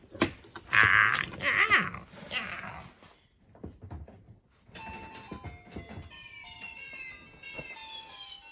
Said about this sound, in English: Here's the robot cat.